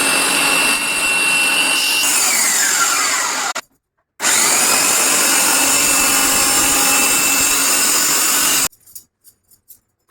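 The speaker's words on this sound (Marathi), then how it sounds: "मग आता ते चेंज केलं आणि त्याच्यानंतर गाजरे किसायला घेतली।" An electric grater shreds carrots for gajar halwa, a loud, close, steady motor whine with a grinding edge that runs for several seconds, stops briefly, then resumes before cutting off into a few faint clicks.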